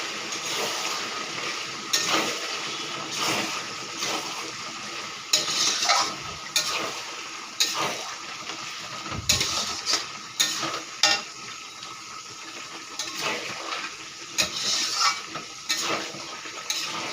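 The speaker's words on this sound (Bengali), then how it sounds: "একটু নেড়ে দিতে হবে।" Chicken curry (murgir mangsho kosha) is stirred in a pan, with repeated spoon scrapes and clinks against the metal over a continuous sizzle, steady and fairly close.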